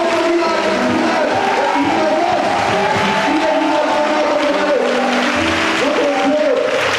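A church congregation loudly acclaims and cheers for God, a dense crowd roar with shouts, whoops and applause, continuous and close throughout.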